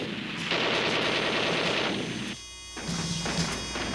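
Cap guns firing in a shootout scene at a dilapidated foundry and junkyard, dense rapid bursts of popping shots that run almost continuously, with one short break partway through.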